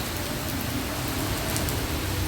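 Rain falling outside on a rainy morning near a sports center, a steady, dense hiss of drops on surfaces that carries evenly without pause and with no talking.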